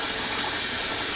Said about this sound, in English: You can do it a couple of times when you feel that it is actually a little bit more clear, the water, when you're washing and rinsing the rice